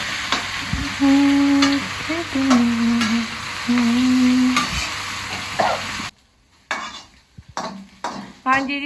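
Jackfruit pieces frying in a pan with a steady sizzle and occasional metallic scrapes of a stirring spoon, followed by a quieter stretch of sharper clinks and scraping against the pan, close up.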